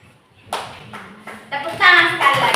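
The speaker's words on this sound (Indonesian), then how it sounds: "tepuk tangan dulu buat kelompok 3" Classroom applause for a student group, starting as scattered claps and building into brisk, overlapping clapping from several children nearby, with voices mixed in.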